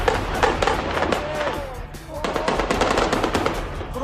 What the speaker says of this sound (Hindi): फिलिस्तीन के राष्ट्रपति महमूद अब्बास के काफिले पर आतंकवादियों ने यह ताबड़तोड़ फायरिंग की है